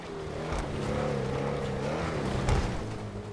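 A supercar engine in GTA Online, the Ocelot XA-21, drones and rises in pitch with a steady revving growl, loud and continuous.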